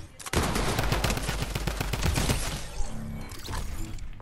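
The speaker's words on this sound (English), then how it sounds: "we can spam drum guns, my guy. We can also spam mini guns" Rapid automatic fire from a drum gun and minigun in Fortnite, a dense, loud, continuous burst of shots that thins out into scattered rounds near the end.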